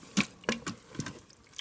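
Water from a half-filled tomato can splashing into an Instant Pot of Bolognese sauce, a few separate close splashes and drips over about a second and a half, nothing spoken.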